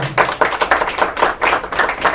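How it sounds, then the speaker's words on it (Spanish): A small group claps after a history talk about banks in Chihuahua, with about ten uneven, close bursts and no one speaking. "Nuevamente un aplauso"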